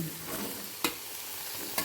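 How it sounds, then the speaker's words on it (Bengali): Potato and eggplant pieces frying in oil for a vegetable dish, a quiet continuous sizzle with two sharp utensil clicks, close and without talk. "আরও এক মিনিট ভেজে নেব"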